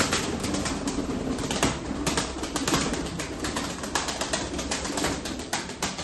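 Domestic pigeons of the Arab and Yanardöner breeds coo continuously in a loft, several birds' low rolling calls overlapping close by at steady volume.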